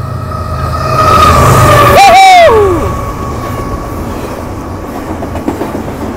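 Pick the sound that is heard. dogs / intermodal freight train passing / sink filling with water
intermodal freight train passing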